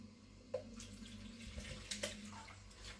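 Vinegar poured carefully into a three-litre jar of last year's lightly salted pickled cucumbers, giving a faint, steady wet trickle with a few soft clinks and no speech.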